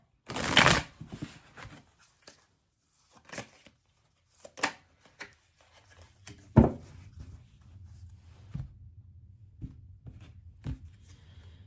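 Oracle cards being shuffled during a tarot reading, a loud burst of riffling at the start followed by scattered softer card slaps and taps, close and alone with no talking.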